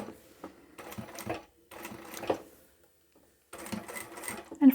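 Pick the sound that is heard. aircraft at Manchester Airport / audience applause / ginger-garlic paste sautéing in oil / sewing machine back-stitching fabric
sewing machine back-stitching fabric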